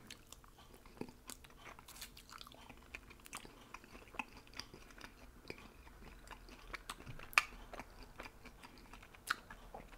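Crunchy Cajun fries with chipotle sauce are chewed close to the mic, giving quiet, irregular crisp bites and soft wet mastication clicks over a low background, with no talking.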